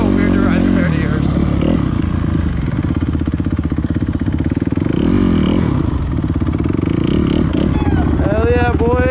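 A used dirt bike engine runs steadily and loudly up close, with a buzzy, throbbing drone and small shifts in revs throughout. Voices briefly come through over the engine.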